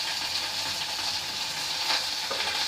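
Celery and carrot fry in a pan with a loud, steady, hissing sizzle and some faint stirring scrapes, heard close and continuous with no talking.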